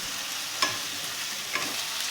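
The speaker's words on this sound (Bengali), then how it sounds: "এবারে এটাকে ভালো করে ভাজবো।" Bori fry in a pan for bori posto, giving a steady, soft hiss of sizzling oil. Two faint stirring taps from a spatula sound over the frying.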